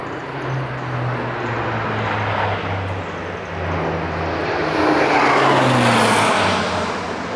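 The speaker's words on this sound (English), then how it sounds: "Oh, here comes the airplane." A propeller airplane passes overhead above a garden, a low droning engine hum swelling and fading over several seconds, loudest near the end, with no one speaking.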